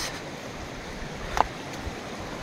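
Steady wash of a small mountain stream flowing close by, a soft continuous rush with one brief splash midway and no talking.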